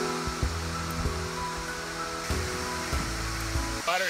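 Waterfall on Fatu Hiva at the Bay of Virgins, a steady broad rush of falling water close by, with a few faint knocks and splashes over the constant roar.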